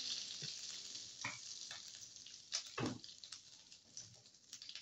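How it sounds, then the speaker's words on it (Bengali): Prawns frying in oil give a steady, moderately loud sizzle with a few sharper crackles and stirring knocks, no talking. "চিংড়ি মাছটা আমি ভাজিয়ে উড়াই নিলাম"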